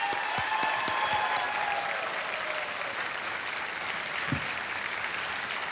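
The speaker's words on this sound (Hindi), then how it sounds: "तालियां बजती रहें बिनल के लिए" A studio audience on the KBC Under 25 quiz show claps loudly and continuously for a winner, with dense applause filling the room throughout.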